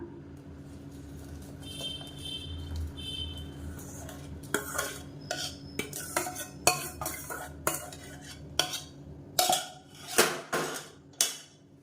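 Boiled palm jaggery syrup is strained from a metal pot. Quiet kitchen hum gives way to a run of bright metallic clinks and scrapes as a utensil knocks against the pot, irregular at first and then in bigger clanks.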